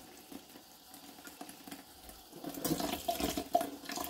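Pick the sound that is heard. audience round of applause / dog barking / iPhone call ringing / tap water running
tap water running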